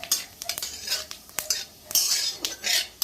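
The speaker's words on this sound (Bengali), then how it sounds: "আমি কিন্তু একটু নেড়ে ছেড়ে দেবো।" Dried red chilli and whole cumin seeds stirred in hot oil in a pan for a village-style soybean and potato curry, with a spoon scraping and clinking in short bursts over a faint sizzle.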